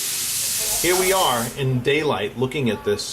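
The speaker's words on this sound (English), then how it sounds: "That's a steam machine. They're all cleaning jewelry there and whatnot." A steam machine used for cleaning jewelry hisses in the background of a jewelry shop, a steady high-frequency rush running under a close voice that talks throughout.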